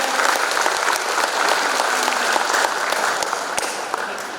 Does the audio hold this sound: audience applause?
yes